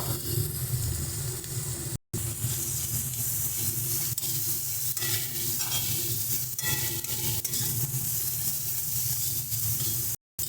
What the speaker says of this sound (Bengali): দেখো মশলাটা কিন্তু ভালো মতন করে একটু কষিয়ে নেব।